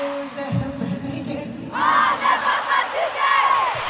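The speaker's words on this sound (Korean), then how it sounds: "순간 경기장은 엄청난 함성으로 화답했습니다." Stadium crowd at a concert in Paris roars back after a famous French football chant, a dense mass of voices that swells into loud cheering and shouting partway through.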